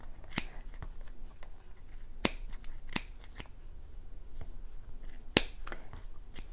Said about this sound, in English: For this, I would use a good pair of fabric scissors.